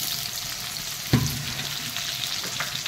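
Green chillies and potatoes fry in a pan with onions for a Bengali fish curry, giving a steady loud sizzle with a brief clatter of stirring partway through, with no talking.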